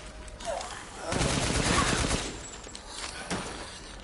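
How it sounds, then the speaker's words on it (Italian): Assault rifle fire in the survival horror game Resident Evil Village, a rapid burst of shots at moderate loudness swelling in the middle, followed by a couple of scattered reports. "userò questo fucile d'assalto"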